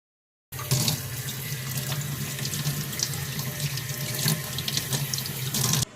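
Tap water running into a sink while henna is washed off hands, a steady loud splashing stream that starts abruptly after a brief silence and continues without talk.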